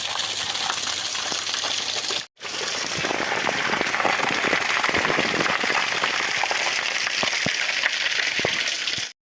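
Water falling in a continuous broadband rush near a hotel, loud and steady throughout apart from one brief dropout, with scattered splashing clicks and no talking.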